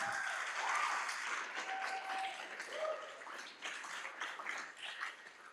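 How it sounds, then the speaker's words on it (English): A crowd applauding steadily, dense clapping that fills the space, with a few faint voices and whoops mixed in. "another big round of applause for all of this year's applicants and finalists."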